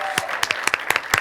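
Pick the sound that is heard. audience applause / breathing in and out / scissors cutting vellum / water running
audience applause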